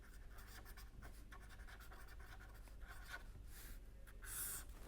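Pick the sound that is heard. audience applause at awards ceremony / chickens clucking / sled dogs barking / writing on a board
writing on a board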